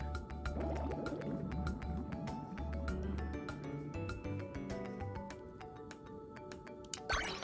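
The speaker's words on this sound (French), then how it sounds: "Cette fois, les bulles s'en mêlent." Bubbly, dripping and gurgling water effects from the bubble rhythm minigame in Kingdom Hearts 2 play over game music with regular percussive beats, sounding soft and continuous throughout.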